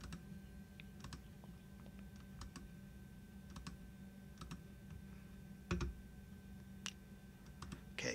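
Keystrokes on a computer keyboard clicking in scattered, irregular bursts with pauses between, moderately faint against a low steady hum, no talking.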